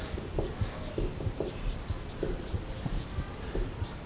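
Chalk or marker taps and scratches across a board during a chemistry lecture on cycloalkane conformations, a quiet, irregular series of short strokes with no talking.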